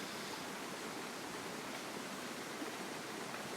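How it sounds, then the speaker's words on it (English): Steady, continuous rush of falling water from a waterfall in the background outdoors, a broad even roar with no pauses, fairly faint and with no talking over it. "I'm really taking a risk with this waterfall in the background"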